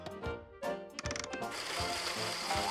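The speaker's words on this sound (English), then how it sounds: "Now we'll just put everything in the blender." A kitchen blender whirs through fruit for a smoothie, starting with a few short pulses before settling into a steady, loud grinding run that stays close and fills the rest of the clip.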